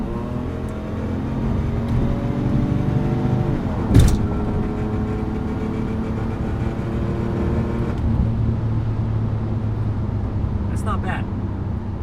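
Inside a 1999 Mercedes S600 V12 with glass pack exhaust cruising on the interstate, a steady low engine and exhaust drone hums along with road noise, one brief thump partway through.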